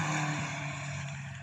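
Mazda MX-5 track car with an aftermarket exhaust, a loud, buzzing engine note held steady and drifting slightly as it passes close by on the Cadwell circuit.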